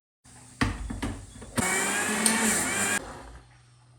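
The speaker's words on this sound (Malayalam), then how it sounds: "ഞാൻ ജാറിലേക്ക് ഇട്ട് കൊടുത്തിട്ട് നന്നായിട്ടൊന്ന് അരച്ചെടുത്തിട്ടുണ്ട്" A mixer grinder jar churns soaked rice: a couple of short motor bursts, then a sustained close whirring run that cuts off abruptly.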